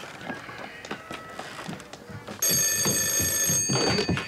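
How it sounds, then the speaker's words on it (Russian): A telephone bell starts ringing loudly partway through, a continuous bright electronic trill following quieter background noise. "Телефон?"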